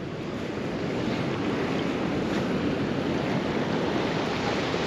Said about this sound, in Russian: А здесь просто течет река.